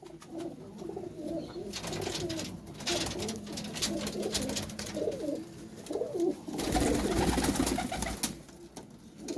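Domestic flying pigeons coo in soft, repeated rolling calls, close and clear over a continuous outdoor background, with several overlapping birds.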